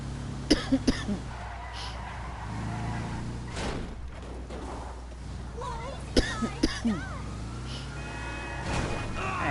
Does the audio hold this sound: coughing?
yes